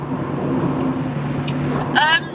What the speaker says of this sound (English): the road noise in this car is absolutely phenomenal